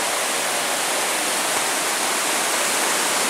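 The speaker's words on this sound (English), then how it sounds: "I just got to a pretty cool waterfall and bridge" Waterfall on the large, fast Devil Track River by a bridge along the Superior Hiking Trail, a loud unbroken roar of rushing water filling the whole stretch, close and steady, with no talking.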